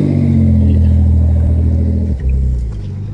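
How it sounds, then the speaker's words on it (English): Nissan 300ZX engine towing another car, a loud steady low rumble held close throughout, with a brief dip and shift in tone near the end. "It's a 300Z, the tow truck."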